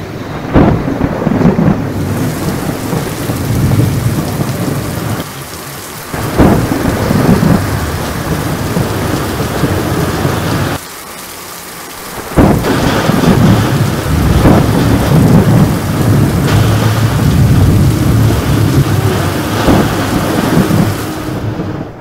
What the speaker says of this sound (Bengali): বৃষ্টি দেখছো?